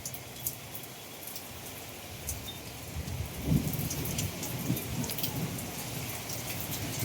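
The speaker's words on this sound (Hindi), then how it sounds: "खूब बिजली चमक रही है, खूब बारिश हो रही है।" Heavy rain pours steadily at night in Chandigarh during a lightning storm, a dense close hiss with a faint low rumble of thunder midway.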